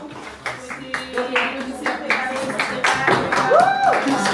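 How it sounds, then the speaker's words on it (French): Hands clapping at a birthday gathering of about forty people in a villa, a scattered run of sharp claps at mid distance with voices chattering and a rising whistle-like tone near the end. "Ils applaudissent"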